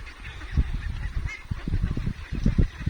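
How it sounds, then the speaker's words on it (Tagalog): Ducks kept on a farm call out together in a close, dense flock, with a continuous stream of loud, overlapping honking quacks. "Kayo na humusga at magsabi kung gaano kaganda ang ating mga binabantayang itik."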